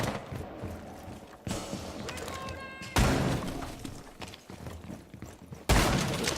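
Gunfire in a competitive tactical shooter match, including a shotgun, with repeated sharp blasts and crashes over busy game noise and faint commentary.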